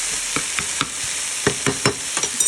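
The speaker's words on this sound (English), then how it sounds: "So to this, I'm just gonna add a little bit of garlic, just to flavor it." Garlic sizzling in a pan of sloppy joe meat, close bright frying hiss with a series of quick scraping stirs, no voices.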